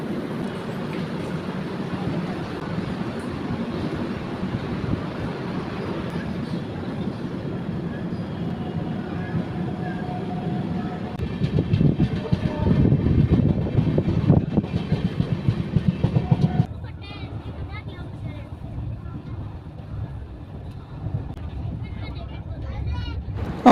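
12756 Bhavnagar–Kakinada Port superfast express halted at a signal near Nidadavolu, heard from inside the coach as a steady low rumble with airy hiss, swelling louder midway before settling back to a quieter hum.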